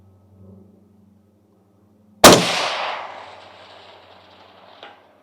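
A single sharp DNT TNC635R-scoped rifle shot fired at a long-range target, loud and close, with a long decaying echo rolling away over several seconds and a faint later knock.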